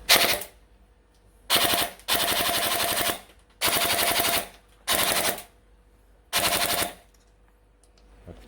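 An HK416D gel blaster with a blowback kit fires full auto in six separate bursts, each a rapid mechanical rattle of about half a second to a second, close and crisp, with quiet pauses between bursts.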